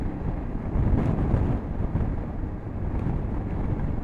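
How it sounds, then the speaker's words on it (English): Heavy wind buffeting a microphone on a BMW F800GS motorcycle, a constant deep rumbling roar that swells and dips slightly without letting up. "It is super windy today, so I apologize if you guys cannot hear me well."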